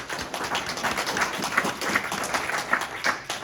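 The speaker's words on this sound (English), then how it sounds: "Round of applause." An audience claps steadily after a guest speaker at a business network event. The applause is dense and continuous, with a few louder claps standing out, and it comes from a room full of people nearby.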